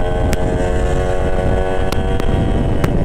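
A Yamaha RX-King two-stroke motorcycle runs hard in fourth and fifth gear, a loud, continuous buzzing engine drone with steady pitch under rushing wind noise, with a few brief sharp clicks.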